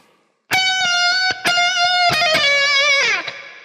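A distorted electric guitar plays a quick lick high on the neck, sustained notes with bends and slides, loud and close after a brief quiet start.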